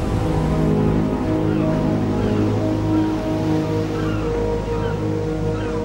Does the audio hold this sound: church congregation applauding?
no